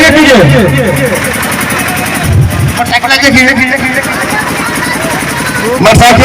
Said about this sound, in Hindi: मोटरसाइकिल आगे कीजिए,